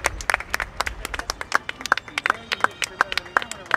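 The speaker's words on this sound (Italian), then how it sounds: "applaudiamo" A small indoor audience clapping, a sparse patter of individual hand claps of uneven rhythm, close and fairly brief, with no voices over it.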